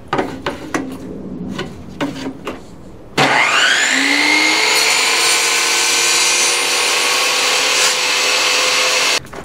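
Saw cutting for pocket door hardware: a few light taps, then a motor spins up sharply and whines steadily for about six seconds, loud and close, before cutting off.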